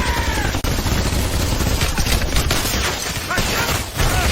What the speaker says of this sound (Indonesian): Yosef menyuruh pasukannya untuk membuka senjata berat yang mereka bawa, yaitu M2 Browning alias senapan mesin dengan peluru berkaliber besar